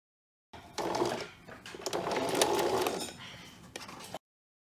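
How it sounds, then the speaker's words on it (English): Sewing machine stitching the shoulder seams of a knit dress, a steady close whirring run with brief pauses and light mechanical ticks, no talking. "So I'm ready to start stitching. So let's start with the shoulder seams."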